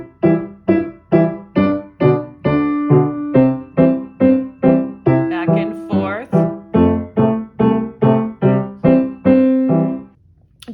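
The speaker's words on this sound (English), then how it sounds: "So if I did Jolly Old St. Nicholas with this feature, it would sound like this." Piano plays Jolly Old St. Nicholas with a boom-chuck left hand alternating root and fifth in the bass, a steady pulse of chords under the melody for about ten seconds, close and unaccompanied.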